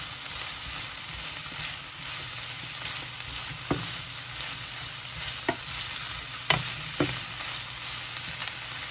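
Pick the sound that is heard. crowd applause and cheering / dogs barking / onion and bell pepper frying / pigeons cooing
onion and bell pepper frying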